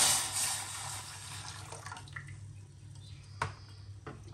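Two cups of water are poured into a pan while making a strawberry biscuit dessert, a soft, rushing splash that tapers off into a few faint drips and small clinks.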